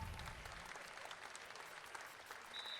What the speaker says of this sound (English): Crowd here in Bellingham clapping for Cam Rutherford.